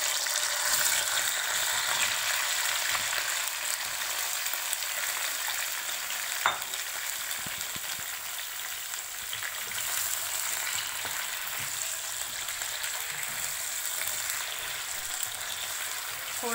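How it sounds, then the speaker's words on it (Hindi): Potatoes fry in hot oil with cumin seeds, giving a steady, close sizzle and crackle that holds for the whole stretch, with an occasional clink of stirring and no talking. "थोड़ा सा इसे फ्राई कर लें।"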